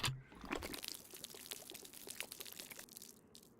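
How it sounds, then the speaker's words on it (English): Liquid poured out of a container in the survival video game DayZ, a close, steady splashing pour with small drips that tapers off over a few seconds, with no talking. "First thing I do is pour that away"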